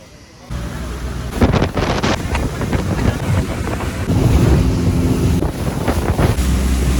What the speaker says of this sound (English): The boat coming in.